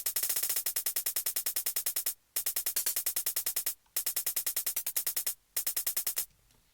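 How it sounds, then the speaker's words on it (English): Rapid hi-hat pattern in a beat for a track, a fast crisp stream of ticking hits in bursts separated by short gaps, quiet and alone. "And then now next up we have the hi-hat,"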